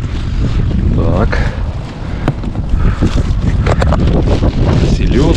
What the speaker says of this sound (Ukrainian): Ох ти, вітер сильний зірвався. Так, сильний вітер.